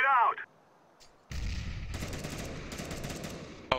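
A grenade detonates in Counter-Strike: Global Offensive: after a brief voice and a short lull, a sudden heavy blast hits, followed by sustained loud rumbling and crackling gunfire to the end.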